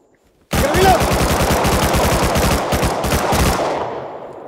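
Rapid automatic gunfire from a first-person shooter game, a loud burst of dense repeated shots firing in steady rhythm for several seconds, with a brief voice underneath.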